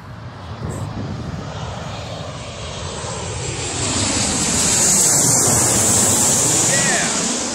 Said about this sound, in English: I think it's one Jet 2 aircraft and then another.